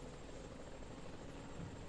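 A Sikorsky UH-60 Black Hawk helicopter gives a steady, continuous rotor and engine drone, faint and evenly sustained throughout without breaks.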